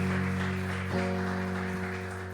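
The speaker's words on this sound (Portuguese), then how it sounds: "Aplauda o nome do Senhor, louvemos a Ele com alegria nessa manhã." A church congregation claps during a morning worship service, a dense, steady wash of applause that holds for a couple of seconds over sustained musical tones.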